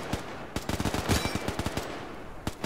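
A machine gun fires in a WWII video game, with short irregular bursts of sharp cracks at moderate distance, alone with no talk.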